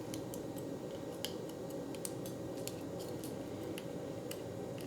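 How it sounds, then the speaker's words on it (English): Cardstock being pulled and picked out of a metal cutting die gives soft, scattered crisp clicks and snaps over a steady low background hum, each tick brief and close. "Now I just need to remove the paper, the cardstock from the die cut."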